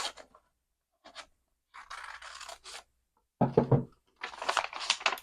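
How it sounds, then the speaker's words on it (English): Scissors cutting along the edge of a paper junk-mail envelope, several short bursts of crisp snipping and paper rustle separated by pauses, close and clear with no voices. "just sticking my scissors inside and then cutting right along the edge there."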